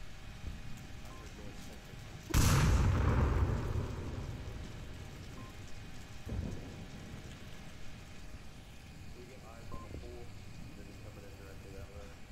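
A grenade bursts in a competitive shooter game, a sudden loud boom that rolls off over a couple of seconds, followed by a fainter thud and quiet in-game ambience.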